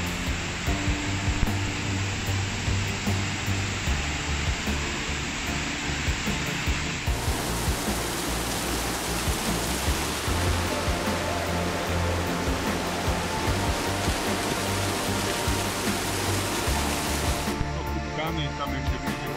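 Sekumpul waterfalls in Indonesia roar as a steady, dense broadband rush of falling water, continuous and loud for the whole stretch with no clear breaks.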